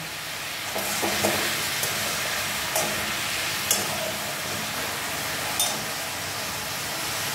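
Ingredients for a katla fish curry with nigella seeds and green chillies fry in a pan, a steady loud sizzle broken by a few sharp spatters and stirring clatters.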